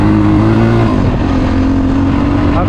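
A 2018 SSR 250S motorcycle being ridden, its engine droning loud and close with a steady, slightly shifting pitch throughout.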